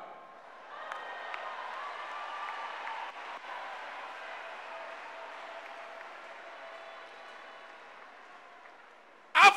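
A church congregation gives a clap offering, sustained applause that fills the hall at an even, moderate level for most of the stretch before a sharp loud burst at the very end.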